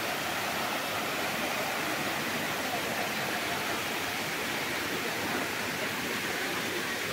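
A waterfall pours with a constant dense rushing hiss, steady and unbroken, heard close with no voices.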